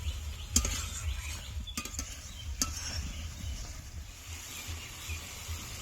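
Tomato puree stirred into frying masala for paneer masala: a low, bubbling hiss with scattered clinks and scrapes of a spoon against the pan, fairly quiet and without talk.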